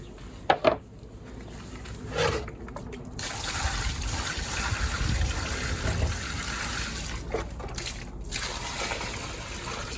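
Water drains and trickles from a chicken coop water line after it is disconnected, a steady close dribble following a few brief knocks and clicks.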